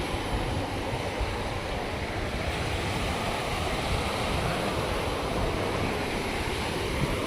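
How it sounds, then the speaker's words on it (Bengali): Rough ocean surf rolls onto a beach at Havelock Island as a continuous, fairly loud, wide roar of breaking waves, with no voices. "সাগরের উত্তাল ঢেউ"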